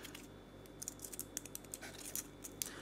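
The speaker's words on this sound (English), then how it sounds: "Give it a quick cut." Scissors make a quick cut while dissecting a Nepenthes gracilis "Black" pitcher plant, giving a few faint, sharp snips and clicks close by against a quiet background.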